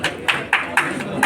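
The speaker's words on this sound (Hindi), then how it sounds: "आप एक बार जोरदार तालियों के साथ उनका स्वागत करेंगे" Audience clapping to welcome a guest at a media club magazine launch event, heard as short bursts of applause in a quick, fairly regular rhythm, moderately close, with voices faintly underneath.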